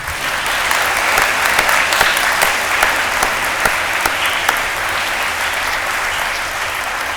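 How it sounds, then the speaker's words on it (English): A large crowd at a Marine Corps JROTC birthday ball applauds loudly and steadily, dense clapping holding at an even level from start to finish. "please give them all a round of applause right now"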